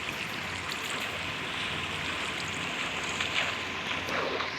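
Water flowing in a video game, a steady rushing wash of noise that stays even and close throughout with no talking.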